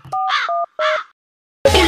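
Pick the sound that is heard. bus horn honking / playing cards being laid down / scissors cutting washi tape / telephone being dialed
telephone being dialed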